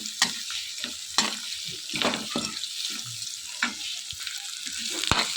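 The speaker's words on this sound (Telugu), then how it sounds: "ఇవన్నీ కూడా ఇలా కలుపుకుంటూ బాగా ఫ్రై చేసుకోవాలి" Onions, green chillies, curry leaves and cumin fry in a pan for semiya upma, giving a steady sizzle broken by repeated scraping stirs, close and fairly quiet, with no talking.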